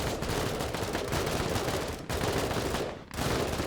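Dense, continuous automatic gunfire in the MENACE video game, a loud, steady rattle of rapid shots with two brief breaks, with no talking.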